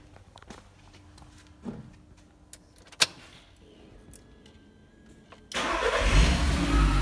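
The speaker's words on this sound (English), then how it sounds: "we have an engine running." A rebuilt salvage Audi RS3 engine cranks and fires up after a few quiet clicks and knocks, bursting into a loud close roar that settles into a rough steady run.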